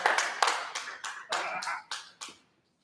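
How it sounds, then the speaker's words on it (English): A single person claps hands about eight times in an uneven rhythm, close and fairly quiet, at a school band concert held without an audience, each clap sharp and separate before falling silent. "I need to clap for it"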